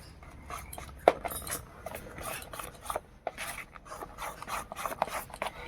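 Yellow food colour being stirred into an eggless semolina cake batter, with a spoon scraping and rubbing around a bowl in quick, close strokes and a couple of sharper clinks against the side.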